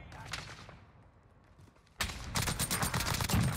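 Rapid nail gun fire in Call of Duty Warzone on Rebirth Island breaks in halfway through after quieter game ambience, with dense clattering shots continuing to the end.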